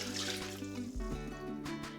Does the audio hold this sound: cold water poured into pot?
yes